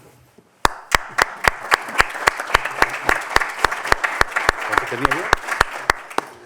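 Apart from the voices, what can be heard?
audience applause after a talk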